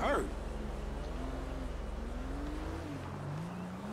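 Car engine in the GTA 5 video game, a steady droning motor that shifts pitch as it drives and accelerates, loud and continuous with a sharp noise burst at the start.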